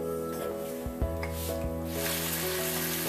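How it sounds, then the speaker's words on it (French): Bacon frying in a hot skillet, a steady crackling sizzle with a few sharp pops, heard close over a constant hum of background tones. "on va chauffer un poêlon et cuire notre bacon"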